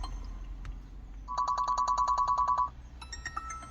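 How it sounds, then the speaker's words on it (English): A ringtone plays from an Eonon Q53pro car head unit: a short tone, then a bright repeating electronic trill of rapid pulses, followed by a different melodic chime, fairly quiet and clear with no talking. "if you want to change your ringtone, you've got a whole choice of ringtones here"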